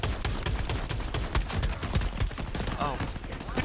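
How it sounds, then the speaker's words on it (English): Rapid, near, continuous video game gunfire crackles through the whole stretch, dense and loud, with a voice talking briefly over it. "Who the fuck is shooting me?"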